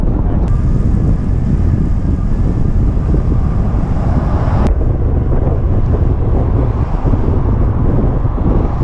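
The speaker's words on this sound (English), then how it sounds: "The wind is going that way." Wind blows steadily outdoors, a loud, continuous rushing that buffets the microphone for the whole stretch with no pauses.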